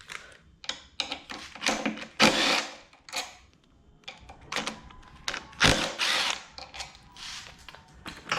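Bolts come off a Coleman mini bike in a series of short, close tool bursts. A power driver whirs and ratchets in uneven spurts separated by brief pauses.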